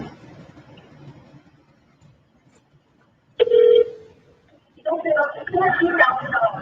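A telephone call rings out: faint background talk, a stretch of near silence, then a single loud ring tone before a recorded voice begins speaking.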